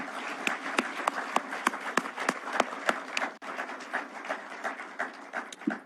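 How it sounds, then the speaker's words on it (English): Applause from an audience at a public event, dense steady clapping with sharp individual claps standing out, continuing throughout at moderate distance with no talk. "I think these good people deserve a clap"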